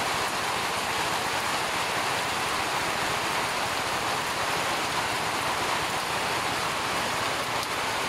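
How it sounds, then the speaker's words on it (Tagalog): Steady rain falling outdoors, a dense, even hiss of drops on surfaces that stays constant throughout, with no voices. "Umulan din sa wakas."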